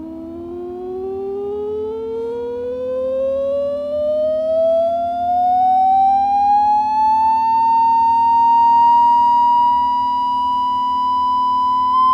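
A sine tone from a frequency generator, fed into a Stryker 955 CB radio on a workbench, sweeps steadily upward in pitch and then holds a clear, loud, steady note over a constant low hum, with no talking.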